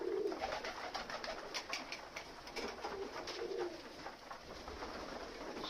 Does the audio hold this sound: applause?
no